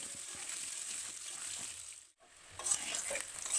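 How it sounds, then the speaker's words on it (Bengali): Steady crackling sizzle of potatoes with turmeric and salt frying in oil, with scraping stirs throughout; the sizzle briefly drops out near the middle, then resumes. "নাড়াচাড়া করতে করতে আলুটা বেশ ভাজা ভাজা হয়ে এসেছে"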